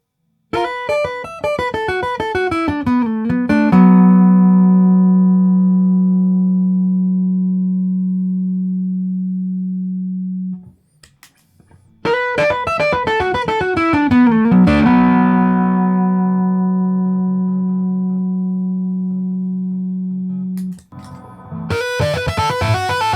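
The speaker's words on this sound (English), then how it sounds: "play the melody strings through the guitar amp, first clean, and then with a little overdrive, and then with distortion" Electric guitar notes from Stick Tech pickups ring out through a guitar amp and sustain long, first clean, then with a little overdrive, then with more grit and distortion on later strums.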